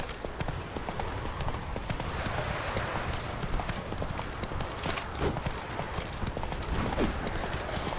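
Hooves of the horse Roach clip-clop in a rapid, steady galloping rhythm in Witcher 3, loud and continuous against a busy background with an occasional brief whinny.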